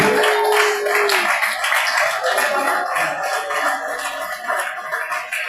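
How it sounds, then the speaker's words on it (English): Audience applause at a Nigerian Medical Association physicians' week scientific conference in Ogun State, a loud sustained wash of clapping from a hall full of people, filling the whole stretch with a brief tone at the start. "Please let's give him a round of applause."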